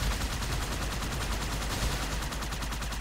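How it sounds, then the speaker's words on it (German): Enemy gunfire in the video game Halo 2 crackles in dense, rapid, overlapping bursts, loud and continuous throughout with no pause and no talking. "Nein, die schießen auf mich!"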